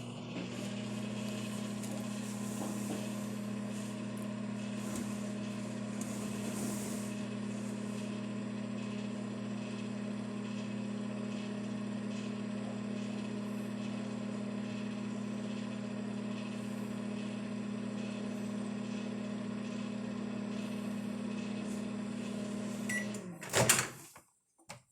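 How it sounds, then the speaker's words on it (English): A microwave oven heating marshmallows runs with a steady low electrical hum and fan drone for over twenty seconds, then the door clicks open with a brief clatter at the end. "we are going to microwave some marshmallows"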